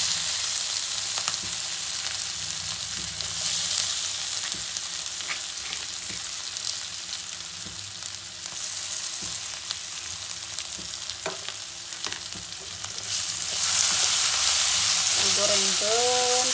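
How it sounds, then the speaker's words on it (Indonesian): Oncom, a fermented soybean cake, fries in hot oil with a steady, crackling sizzle that runs without a break and swells louder toward the end, while light stirring clicks and a brief voice come through. "Oncomna kita gorengin saja."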